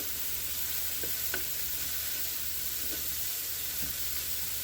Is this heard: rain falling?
no